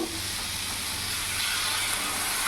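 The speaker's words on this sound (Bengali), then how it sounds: "এবার আমি জল দিয়ে দেবো।" Water poured into a hot pan of fried papaya and shrimp gives a loud, continuous close-up hiss and sizzle that holds steady throughout.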